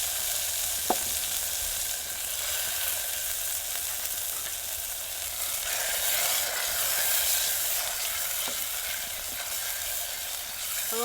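Spices and asafoetida fry in hot oil in a pan, producing a steady, close, hissing sizzle throughout with a few faint clicks and no talking.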